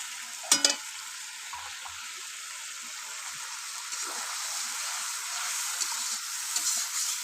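Spiced potatoes for aloo dum sautéing in a pan over a clay stove, a steady bright sizzle with a brief sharp scrape or clatter near the start, the frying growing slightly louder toward the end.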